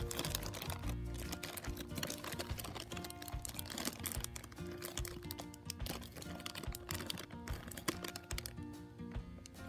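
The packaging of a McDonald's Teanie Beanie Boo toy is carefully opened, producing a quiet, close, continuous stream of fine crinkling and clicking with no pauses.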